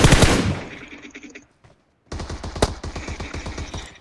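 Automatic rifle fire in PUBG Mobile: a loud burst decaying away, a brief silence, then another rapid, rhythmic string of close shots for about two seconds.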